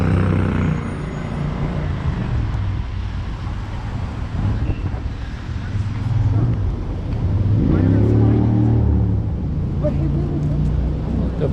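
Cars move through a city street in Greenwich Village, New York, producing a steady rumble of passing traffic with engines swelling and fading nearby, mixed with wind buffeting the microphone and a voice speaking over it.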